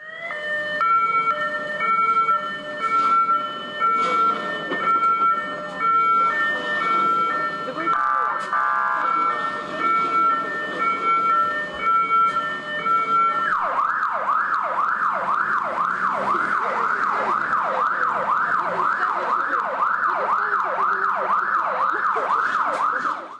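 Fire engine siren leaving a fire station in Rivne, first a steady two-tone wail, then a rapid, loud warbling yelp that pulses continuously, with someone talking over it.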